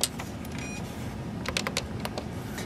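Keys pressed on the keypad of a Xerox 3635 fax machine while entering a speed dial number: a quick cluster of close, clicky taps with short gaps, several in rapid succession, with no voice.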